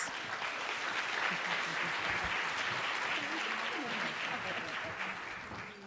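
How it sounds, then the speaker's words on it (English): A gala audience applauds steadily for several seconds, a dense wash of clapping from a large crowd with scattered voices underneath, slowly tapering toward the end. "Give them a big round of applause."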